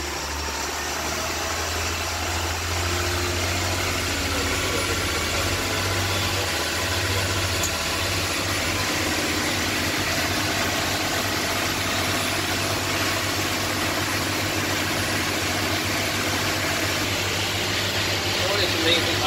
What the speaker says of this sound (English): we went out to the bay and tested the engines at full throttle